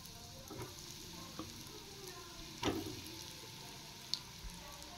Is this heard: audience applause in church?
no